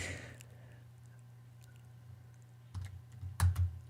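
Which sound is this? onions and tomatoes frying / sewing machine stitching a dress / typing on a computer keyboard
typing on a computer keyboard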